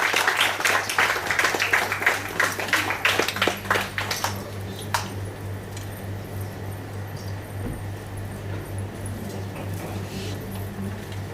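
Audience applause at an installation ceremony: a dense burst of clapping fills the first four seconds, then thins out and fades, leaving a steady room hum.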